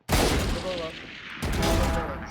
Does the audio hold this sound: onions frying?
no